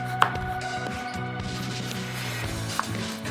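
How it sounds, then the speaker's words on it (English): A knife peels and cuts a raw pie pumpkin, two sharp distinct chops standing out against a quiet kitchen background with no talking. "Scoop out the seeds and pulp, and peel the rind, which is too tough to eat raw."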